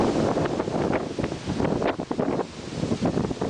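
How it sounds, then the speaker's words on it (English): Strong gusty wind in downtown Manhattan after Hurricane Irene buffets the microphone in a constant rough rumble with irregular surges, close and filling the whole stretch. "The wind is pretty rough down here."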